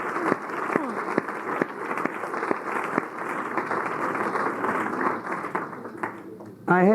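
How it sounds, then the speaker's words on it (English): An audience in a 1980 recording claps for student leaders who have been asked to stand, a sustained stretch of moderate applause with voices mixed in. "I think we ought to give them a wonderful round of applause."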